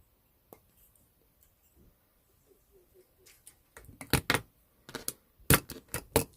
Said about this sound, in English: I'm going to trim that weaving wire.